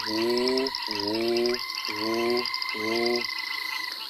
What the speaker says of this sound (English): coming from behind me, and those are being made by red toads.